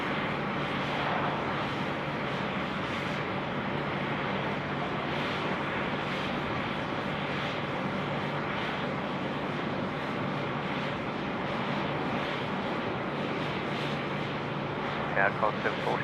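Qantas flight 41 to Jakarta, a jet rolling for takeoff on runway 34 left at Sydney Airport, gives a continuous broadband engine roar under ongoing talk.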